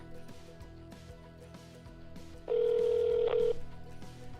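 A telephone call being dialed, with soft tones and clicks before a loud, steady ringback tone holds for about a second and then stops, heard close and alone.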